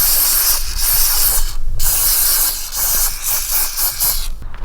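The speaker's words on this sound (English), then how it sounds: "spray the front sprockets for the apron chain, because there's no grease fittings on them" Aerosol lubricant sprayed onto the apron chain sprockets of an old manure spreader on a small farm, a close, loud hissing spray in several short bursts with brief pauses between them.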